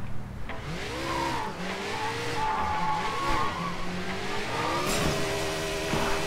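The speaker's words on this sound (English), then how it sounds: "Speed boost. This is nitrous." A car in Sleeping Dogs kicks in a nitrous speed boost, with a loud, rising engine whine that climbs and falls in pitch alongside tire squeal and skidding, close and continuous.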